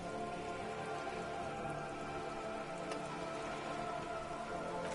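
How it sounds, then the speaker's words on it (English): Steady rain falls on wooden boards and open water in a scene from the game Disco Elysium, a dense, even hiss of drops with occasional sharper patters, constant and close, with no voices. "All around you, rain keeps falling down. On the wooden boards she's standing on, and on the water around you."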